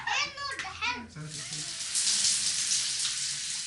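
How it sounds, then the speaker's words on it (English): Shower water runs with a loud, steady hiss in a home in Egypt. A voice is heard at the start before the spray fills the rest of the clip. "As I take a shower and get ready for bed"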